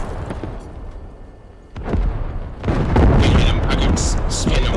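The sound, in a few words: enemy tank destroyed by tank fire in Squad video game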